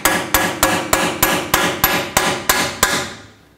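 Nine evenly spaced metal hammer blows strike a seal installer, driving a rear axle seal into a 1997-2003 Ford F-150 axle housing; the hits are sharp, close and loud, ringing briefly before fading.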